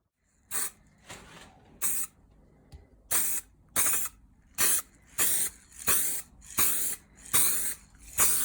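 Repeated short bursts of an aerosol spray paint can hissing while priming a Mk2 Golf GTI, about a dozen evenly spaced sprays, each lasting under half a second with brief quiet gaps.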